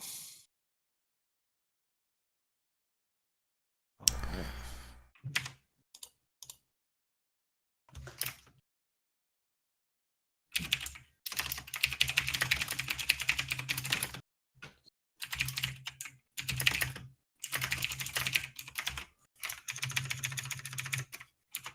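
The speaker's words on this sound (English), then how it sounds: "Somebody is typing with purpose." Someone types on a computer keyboard during an online Dungeons and Dragons session, giving bursts of rapid, close clicking separated by silent pauses, steady and fairly loud with no one talking.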